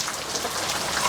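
Steady rain falling on the ground outdoors after a long dry spell, a dense even patter of drops close by with no other sounds.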